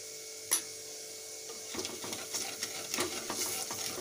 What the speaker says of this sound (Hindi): इसको थोड़ा सा दो मिनट भून लेंगे